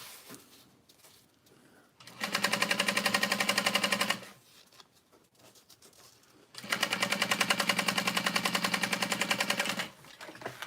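A sewing machine top stitches a folded-over top edge about a quarter inch from the fold, running in two steady bursts of rapid, even needle chatter with a quiet pause between them, close and loud with no talking.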